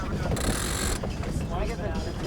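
A sailboat winch ratchets as a crew member cranks in the spinnaker halyard, a close, continuous mechanical clatter under wind and water noise.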